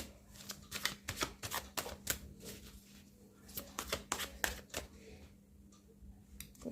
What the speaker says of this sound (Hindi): और कुछ कार्ड्स लेते हैं उसके बाद मैं आपको एक्सप्लेन करती हूँ